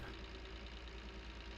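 A small, heavily built orange tractor in Farming Simulator 19 idles with a low, steady engine rumble and a faint knocking pulse, quiet and alone.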